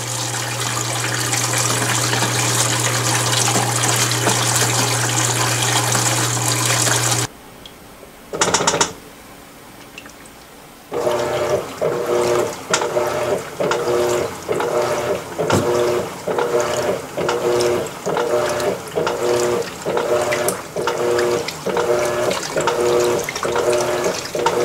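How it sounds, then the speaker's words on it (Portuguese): An Electrolux Premium Care 13 kg washing machine filling with water for its second rinse, a steady hiss of inflow that stops, a short burst, then water rushing in again with rhythmic splashing and churning pulses. "a lavadora começou então a encher agora para fazer o segundo enxágue"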